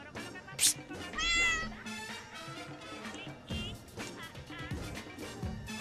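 A cat meows several times up close, drawn-out and plaintive, with some rustling and handling noises around it.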